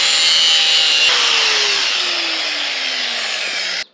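Gate hinge bolts being trimmed with a power tool, a loud continuous grinding-saw whine that holds steady for nearly four seconds with a slowly falling tone before cutting off abruptly.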